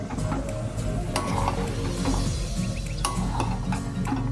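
Masala with Kashmiri chili powder being stirred in a pan, giving a steady loud sizzle with frequent scraping and clinking strokes of a spoon against the pan, close up.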